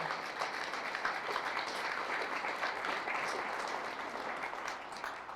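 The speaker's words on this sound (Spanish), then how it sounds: "Fuertes aplausos, Rey de Reyes y Señor de Señores," Sustained applause from a church congregation during a Catholic priest's sermon, a dense steady clapping that holds at an even level for several seconds without a break.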